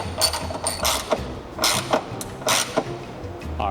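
A longer M6 bolt being ratcheted tight on a hood strut bracket of a 2022+ Subaru BRZ or Toyota GR86, heard as close, rhythmic clicking ratchet strokes repeating steadily for several seconds.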